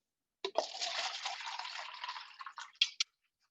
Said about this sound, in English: that is a typical pour that you see at a house party for a mixed drink